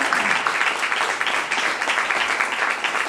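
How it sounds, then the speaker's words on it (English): Conference audience at a digital health innovation event giving a round of applause, a continuous dense crackle of many hands clapping, steady and fairly loud throughout. "we should give Martin a round of applause"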